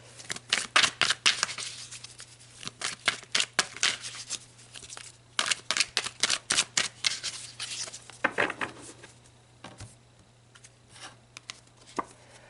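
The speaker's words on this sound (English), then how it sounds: "All right, let's pull some more cards." Tarot cards are shuffled and drawn in a quick series of crisp, close slapping and riffling bursts, starting dense, briefly pausing, then thinning to a few sparse flicks near the end, with no talking.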